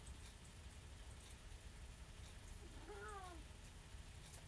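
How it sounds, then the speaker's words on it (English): A house cat gives one clear, drawn-out meow partway through, heard moderately close above a steady background hiss, with no one talking. "And that would be my cat."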